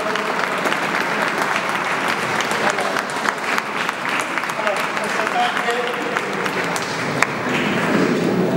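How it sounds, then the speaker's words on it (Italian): Warm audience applause following a choir's performance of a sacred piece, many hands clapping steadily at close range with voices talking underneath as the clapping continues. "va sicuramente un applauso particolare"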